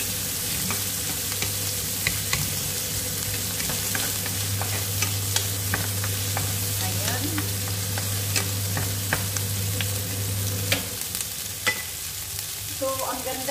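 Onion frying in a pan for chicken cashew, a steady close sizzle with frequent scraping taps of stirring, a low hum running underneath for most of the clip.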